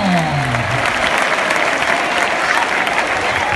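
Loud, dense applause from a crowd of spectators at a bullfighting recortes contest in Valencia, a steady roar of clapping mixed with shouts and cheering that stays full throughout.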